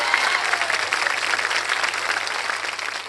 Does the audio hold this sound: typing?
no